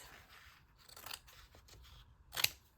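Scissors cutting pieces of paper or fabric for a collage, soft close snips and rustles ending in one sharper, louder cut, quiet overall.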